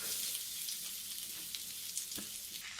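Medium onions, sliced lengthwise, frying in hot oil in a pan for egg masala gravy, a steady close hiss and sizzle with faint crackles throughout and no talking.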